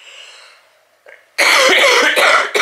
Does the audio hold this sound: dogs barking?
no